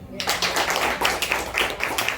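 Audience clapping at a health talk, a dense burst of many hands starting abruptly and continuing steadily at moderate loudness, with some speech mixed in.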